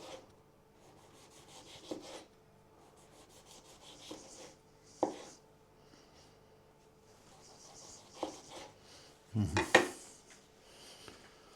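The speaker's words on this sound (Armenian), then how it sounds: "Անհրաժեշտ է բարակ կտրատել պոմիդորը։" A knife thinly slicing tomatoes on a board, a quiet sequence of sparse soft taps and brief scraping rubs, with one louder cluster of cuts near the end and no voices.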